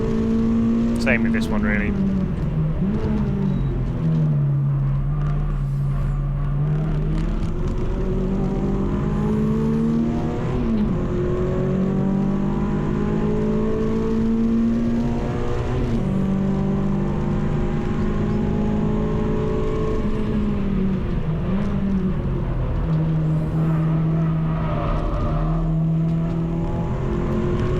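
A front-wheel-drive race car engine at Donington Park drones and revs through gear changes, pitch rising and falling steadily under an in-car voice talking throughout the lap.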